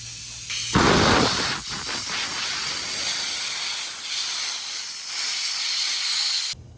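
Compressed air blasts from a blow gun to clear dust off a CNC machine, a loud steady hiss that starts abruptly and holds for about six seconds before cutting off sharply.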